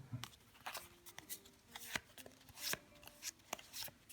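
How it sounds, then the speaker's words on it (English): Playing cards being shuffled by hand, a series of soft riffling and sliding bursts in an uneven rhythm, close and quiet. "I'm just going to shuffle them just to make sure they get mixed in really well."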